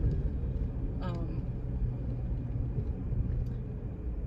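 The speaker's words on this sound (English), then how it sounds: "I'm sorry if my car's loud." A loud car with a worn engine that needs work, and its air conditioner running, makes a steady, dense low rumble from inside the cabin, with a few faint brief sounds over the drone.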